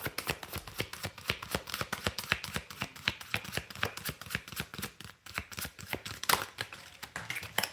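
Large oversized cards shuffled by hand in a steady stream of dense riffling flicks and slaps, close and moderately loud, continuing without pause and with no talking.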